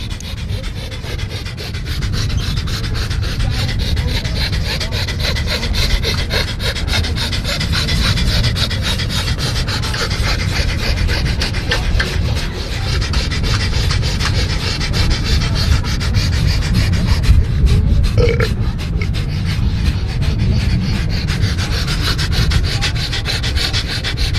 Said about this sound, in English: All right, here we go. Breath of fire.